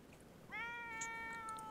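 A cat in The Sims 4 lets out a single drawn-out, tonal meow that starts after a brief quiet pause and holds steady at moderate loudness until the end, with faint game sounds in the background.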